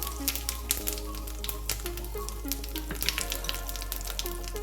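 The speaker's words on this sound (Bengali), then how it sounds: "আর এই যে জিরে, হলুদ, তেজপাতা আর জিরে আমি ফোড়নে দিয়ে দিলাম।" Cumin, turmeric and bay leaf crackle and sizzle in hot oil for a tempering, a steady close frying hiss broken by frequent sharp pops, with a low hum underneath.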